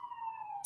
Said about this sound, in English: There are sirens in the background.